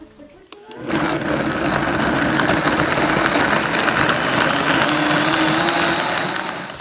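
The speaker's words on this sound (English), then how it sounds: "I'm going to add everything except the potatoes into the blender and blend that up" A kitchen blender whirs steadily as it purées tomatoes and water, a loud continuous motor drone starting after a brief click and running unbroken to the end.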